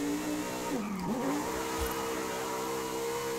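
Lamborghini Huracan Tecnica in Forza Horizon 5 revving hard, a loud continuous engine drone that dips briefly and climbs again, heard alone without talk.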